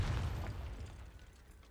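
A magical Confringo blasting spell explodes in a video game, a deep rumbling boom already underway that fades steadily over under two seconds, with no voices.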